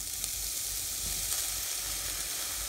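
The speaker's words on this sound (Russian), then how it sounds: "И обжариваем баклажаны до мягкости." Eggplant fries in a pan with a steady, even hiss of hot oil. The sizzle is quiet, close and continuous, with no voices.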